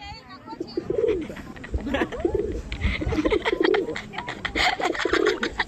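A person imitates a pigeon, producing repeated throaty cooing phrases close to the mic, with some background noise and a faint voice.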